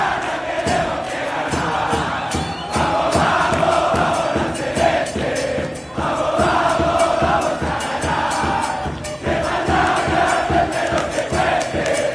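Football fans of O'Higgins chant together in Salvador ahead of a pre-Libertadores match against Bahia. The loud, dense crowd roar carries sharp rhythmic beats throughout.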